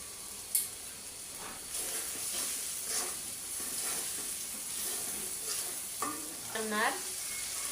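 Chicken masala with salt sizzles and fries in a pan while a spoon stirs and scrapes through it, a steady moderate hiss with a few scraping strokes and no talking.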